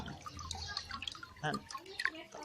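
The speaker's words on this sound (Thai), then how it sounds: "น้ำไหลนี่ครับ" Water trickling and dripping in a concrete shrimp pond, irregular small splashes and drips, fairly faint and close.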